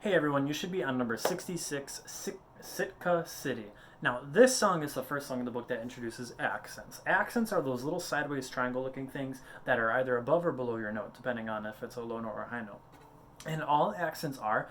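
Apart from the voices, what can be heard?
None of the usual background noises is heard.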